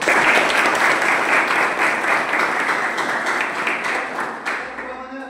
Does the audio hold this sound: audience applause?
yes